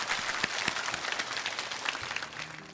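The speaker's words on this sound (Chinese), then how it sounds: "所以也再一次把掌声送给您的团队的所有的" Audience applause for a team on a televised talent show, a steady wash of many hands clapping at moderate distance, fairly even throughout with no talking.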